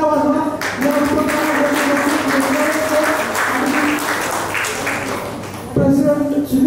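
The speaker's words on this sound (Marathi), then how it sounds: "तर जोरदार टाळ्या वाजवा" Sustained audience applause at a Rotary Club of Walhekarwadi event, dense steady clapping across the whole stretch with a brief dip and a fresh surge near the end, loud and close.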